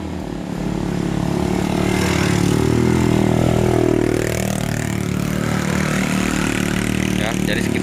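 Vehicle engines idling in a traffic jam behind a car broken down mid-road on a steep climb, a loud steady low rumble with a rising and falling engine note close by.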